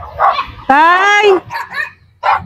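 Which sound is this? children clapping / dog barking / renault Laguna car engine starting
dog barking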